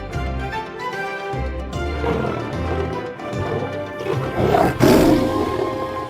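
A lion in a children's cartoon story gives a welcoming roar, repeated deep growling bursts building in loudness over several seconds, set against background music.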